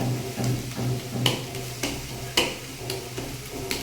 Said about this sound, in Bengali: একদম সমস্ত শাক মিশিয়ে দেব।